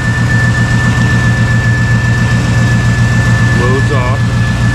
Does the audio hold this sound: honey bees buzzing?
no